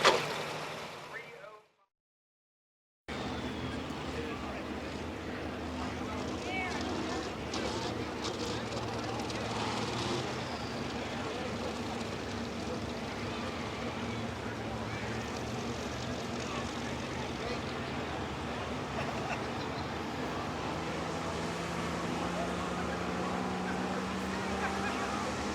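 A John Deere tractor revving up at a truck and tractor pull, a steady engine drone that holds at moderate distance after a short gap of silence, with a commentator's voice over it.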